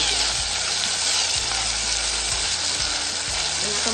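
Mixed vegetables for veg pulao fry in a pan with a steady, dense sizzle that runs throughout, with occasional low knocks from stirring or the pan and no talking.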